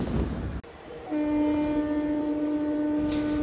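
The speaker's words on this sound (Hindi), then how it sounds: "अभी गई है बरेली प्रयागराज संगम एक्सप्रेस।" Bareilly Prayagraj Sangam Express passing on the line, heard from a moving train: a sudden loud rush as it goes by, with a long sustained horn blast that holds for a couple of seconds before cutting off.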